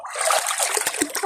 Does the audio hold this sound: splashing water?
yes